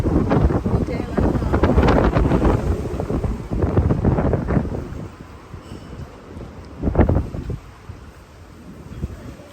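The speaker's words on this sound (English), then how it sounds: "Here, so windy, so windy." Strong wind on a windy day in Thailand roars and buffets the microphone in loud, rumbling gusts that ease off partway through, with brief voices under the noise.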